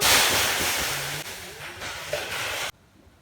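Water poured into a hot pan with a potato kulcha hits with a loud, broad sizzling hiss that slowly fades, then cuts off abruptly to near quiet.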